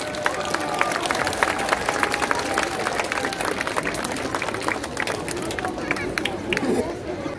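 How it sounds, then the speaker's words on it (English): An audience applauds a Kwong Hwa lion dance group after its stage show at La Croisette, with steady dense clapping and crowd noise filling the whole stretch and voices mixed in. "On les applaudit très fort, s'il vous plaît."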